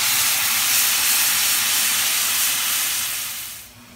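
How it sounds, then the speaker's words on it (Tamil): Tamarind water poured into frying masala for karuvadu kulambu (dried fish curry), giving a loud, steady broadband sizzle and hiss that holds close and even for a few seconds, then fades out toward the end. "நெல்லிக்காய் அளவு ஊற வச்ச புளியை கரைச்சி இதில் ஊற்றிக்கோங்க."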